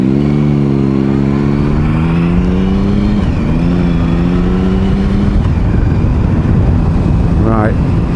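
An earlier-model Yamaha R6 with a side-mounted exhaust revs up loudly, its engine note climbing and falling in repeated sweeps under a rider's ongoing talk, with a quick sharp rev near the end.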